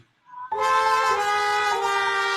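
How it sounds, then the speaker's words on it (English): A sustained brassy trombone-like toot plays as a studio sound effect on an on-air hangout, rising loud and holding steady for about two seconds with no talk. "we can get the trombone"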